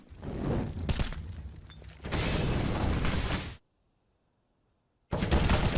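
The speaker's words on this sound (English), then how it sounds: "As shots come out" Gunshots in an esports video game match, heard as clusters of sharp, loud bursts that break off into a stretch of near silence before firing resumes.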